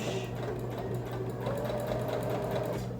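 A serger stitches seams through thick double-layer fleece for slippers, a fast, steady mechanical whirr heard close up without pause throughout.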